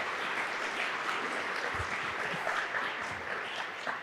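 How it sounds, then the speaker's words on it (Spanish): A church or parenting-workshop audience applauds a pastor, a dense continuous wash of clapping from many hands at moderate loudness, unbroken throughout. "quiero que le dé un aplauso al pastor Daniel"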